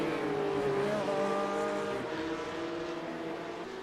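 Porsche Cup race cars in the iRacing sim roar past at once, several engines overlapping in a loud, steady high-revving drone that dips slightly as one car slows and pulls away near the end.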